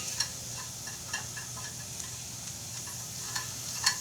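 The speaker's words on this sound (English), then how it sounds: "Stir this around in here. Make sure all of our butter and flour gets mixed together." A butter and flour roux being stirred in a pan gives a quiet steady sizzle, broken by soft, scattered scraping taps from the utensil.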